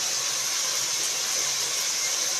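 Onion, ginger and garlic sautéing in hot oil in a pan, a steady, even sizzle that holds unbroken and moderately loud throughout, with no talk.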